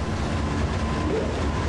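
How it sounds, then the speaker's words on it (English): A passing train rumbles steadily and loudly close by in a brief, continuous stretch of rolling wheel noise with no pauses. "See each train in its entirety, featuring Union Pacific, Amtrak California, Altamont Commuter Express, and the BNSF Warm Springs Local."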